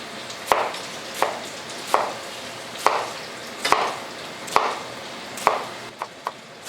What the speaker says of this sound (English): that's the onions and mushrooms all cut up